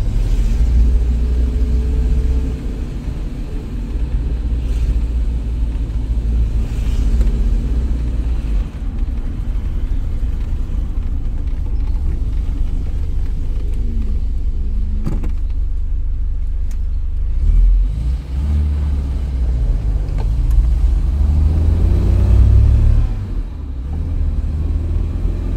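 Classic Volvo PV504 car engine running in a workshop, a loud low rumbling idle that swells with a few revs, close and continuous with no talking.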